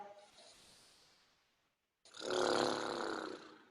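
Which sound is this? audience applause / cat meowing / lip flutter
lip flutter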